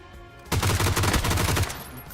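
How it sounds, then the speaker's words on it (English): Sustained automatic gunfire in PUBG, a rapid rhythmic burst of close shots sprayed at a wall for about a second, starting and stopping sharply over quiet background. "He is shooting the wall before the guy even comes around the corner."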